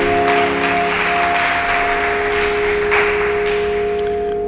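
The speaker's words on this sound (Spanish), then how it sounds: "Denle un fuerte aplauso al Señor Jesucristo." Congregation applauding during a church service, a steady wash of clapping over a sustained organ or keyboard drone.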